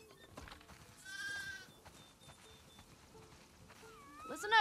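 Sheep bleat on a farm in the video game The Last of Us Part II, a few wavering calls at moderate distance, with a louder, closer cry at the end over soft game ambience.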